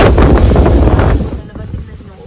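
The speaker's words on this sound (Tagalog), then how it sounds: "Ayan siya, sobrang hangin na po." Strong typhoon wind roars and buffets close to the microphone for the first second or so, then eases into a lighter rushing gust outside a house during Typhoon Ulysses.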